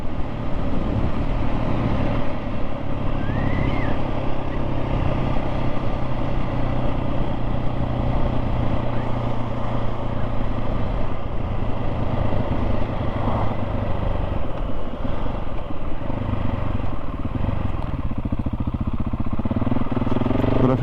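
A 2024 KTM 690 SMC R single-cylinder motorcycle runs under steady load with a continuous loud engine drone and wind rush, recorded on board. Slight shifts in pitch hint at gear changes.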